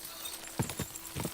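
A horse's hooves in the medieval video game Kingdom Come Deliverance II, a few muffled clip-clop beats in uneven pairs over a steady hiss of game ambience.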